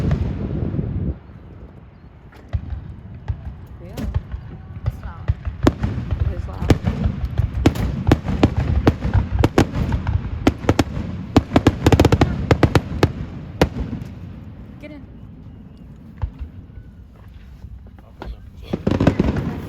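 Fourth of July fireworks display on a Marine Corps base at Camp Lejeune, sounding as repeated booms and crackling bursts, sometimes in rapid clusters, with people talking in the crowd.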